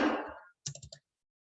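A computer keyboard being typed on gives a quick burst of four or five close, crisp clicks in a quiet room, alone after a brief fading noise.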